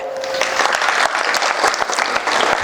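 An audience at a Shiv Jayanti celebration claps loudly and continuously, a dense burst of applause with no talking over it.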